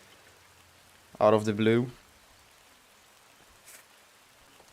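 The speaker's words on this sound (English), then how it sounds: "rain just started to appear on the map" Steady, faint rainfall in the real-time strategy game Command & Conquer: Generals Zero Hour, hissing softly throughout with a brief spoken phrase over it near the start.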